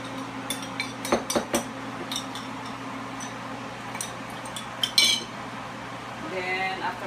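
A utensil scrapes and clinks against a pan while beef and broccoli are stirred, giving irregular metallic taps and clatters, several sharp clusters early and again near the end, over a faint steady hum.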